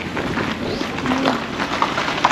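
Strong wind roars steadily against the microphone outdoors near an airport in the Philippines, a continuous loud buffeting rush with no speech.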